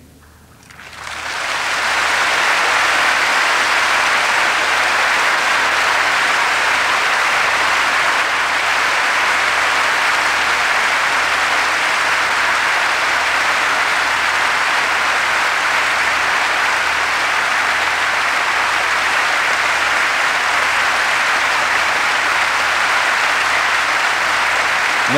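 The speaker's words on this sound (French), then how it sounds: "tous ces applaudissements à toi Seigneur" An audience in a hall bursts into loud, sustained applause that swells within the first two seconds and holds at a dense, even level for more than twenty seconds, with no voices over it.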